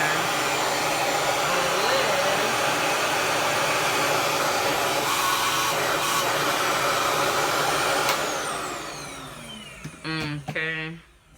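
A Revair reverse hair dryer runs with a loud steady whooshing whine and motor hum, then winds down and sputters near the end as a voice speaks briefly over it.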